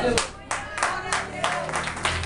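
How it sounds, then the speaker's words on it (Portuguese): A church congregation claps along during a Portuguese-language sermon, a fairly close, irregular patter of hands with a few louder bursts, mixed with voices speaking. "Pode aplaudir, meu Senhor."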